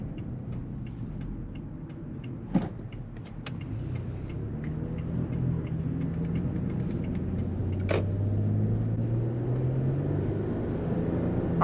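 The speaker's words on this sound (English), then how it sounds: "I'll hit the gas a little bit so you guys can see how fast this thing can go." 2012 Lexus RX 350 with a 3.5-liter engine and about 150,000 miles, heard from the cabin as a low road rumble and engine drone that grows gradually louder while it picks up speed, with a couple of brief clicks.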